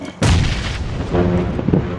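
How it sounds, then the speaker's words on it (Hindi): A sudden heavy gunshot boom followed by a few quieter reports and rumbling echoes, sounding like game gunfire. "अरे गोली चली"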